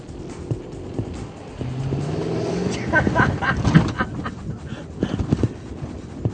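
A powerful car accelerates hard in the desert near Dubai, its engine note climbing and roaring up close, with rougher revving bursts and wind noise later.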